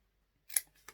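Scissors snip paper scraps along a folded bias line for a scrapbook album, one crisp close cut followed by a softer second snip, quiet surroundings and no speech.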